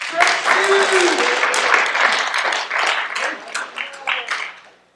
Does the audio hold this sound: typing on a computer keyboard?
no